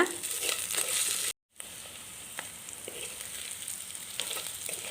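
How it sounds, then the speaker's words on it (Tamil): Ginger and onion sauté in an earthenware clay pot, giving a steady, close frying sizzle that breaks off for a moment and then carries on evenly. "இந்த இஞ்சி வெங்காயம் நல்லா வதங்கி வரணும்."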